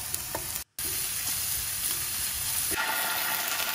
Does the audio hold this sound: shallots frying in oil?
yes